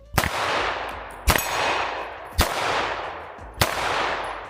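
Handgun shots fired with open sights at a distant outdoor target: four loud, sharp reports spaced about a second apart, each followed by a long ringing echo that rolls off across the range.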